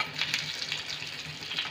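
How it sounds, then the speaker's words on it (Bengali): Stuffed, pre-steamed bitter gourds frying in a pan over a medium gas flame make a close, soft crackling sizzle with small popping bursts, continuous and alone. "মিডিয়ামে রেখে এগুলোকে আমি এবারে ভেজে নেব।"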